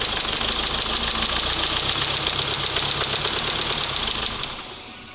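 A Mazda 6 with a replacement engine runs with a rapid, even knocking pulse, held steady under light throttle, then cuts off abruptly and fades out near the end.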